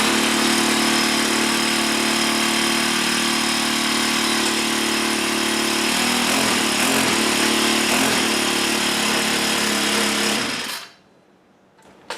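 A small gasoline engine with a carburetor and primer bulb runs steadily and loud for about ten seconds with a fast, buzzing rattle, then cuts off abruptly into near silence.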